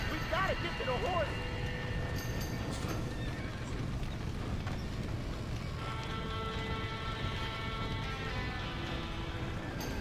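Horses in the Red Dead Redemption video game, with a clear whinny early on and galloping clip-clop hoofbeats under a steady game background, while people talk over it.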